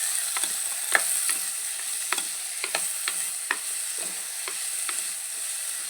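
Vegetables sautéing in a pan as part of a brinjal dish, a soft steady sizzle with a scatter of sharp scraping and stirring clicks at an uneven rhythm, close by and with no voices.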